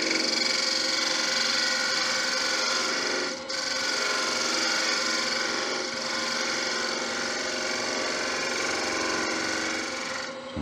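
A wood-turning lathe gouge takes a light finishing cut on Balinese teak while a chalice is turned, giving a steady, close, rasping hiss that runs almost unbroken, with one brief dip partway through.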